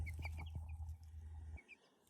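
Meat chickens in a farm pen clucking and calling in short repeated bursts over a steady low hum, close by, with the sound dropping away near the end.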